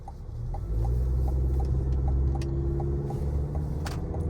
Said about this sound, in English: Little acceleration test.